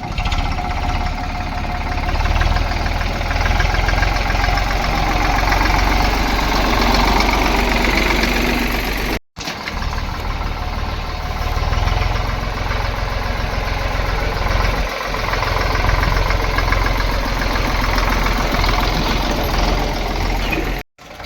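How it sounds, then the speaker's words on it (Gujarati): A tractor engine runs close by, a loud, steady low rumble with a rattling mechanical throb that continues without a break, cut off briefly twice. "ટ્રેક્ટર લઈને આઈ ગયા."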